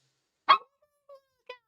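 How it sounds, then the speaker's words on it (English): A dog barks three times indoors, close by: one loud sharp bark, then two shorter, quieter yips spaced about half a second apart, with silence between. "Why are you being rude, dog?"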